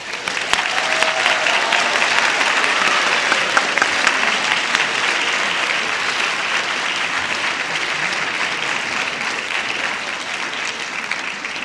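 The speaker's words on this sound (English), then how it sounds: "Please give an applause to the Freshman Orchestra Council." A school spring orchestra concert audience claps loudly and continuously, a thick, sustained applause that holds strong for over ten seconds and tapers only slightly toward the end.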